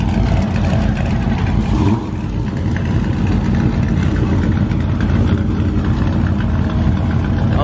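A modified street car idles loudly and roughly at a gas station meetup, a steady throaty rumble that fills the whole stretch with a brief dip near two seconds, no speech over it.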